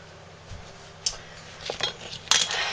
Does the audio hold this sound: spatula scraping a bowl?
yes